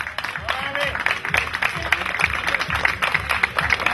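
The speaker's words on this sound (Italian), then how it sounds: "Complimenti Valentina, un altro applauso alla nostra vincitrice." An audience at a beauty contest awards ceremony gives steady applause for the winner, with clapping running throughout under a voice speaking over a microphone.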